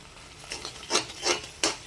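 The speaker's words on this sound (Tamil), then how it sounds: "இதுவும் அப்படியே வந்து நம்ம மாம்பழத்தோட நெய்யோடு நல்லா மிக்ஸ் பண்ணி நல்லா வணக்கி விட்டுக்கலாம்" Mango sautéed in ghee is stirred in a pan, giving three distinct scraping strokes over a faint sizzle, close and brief.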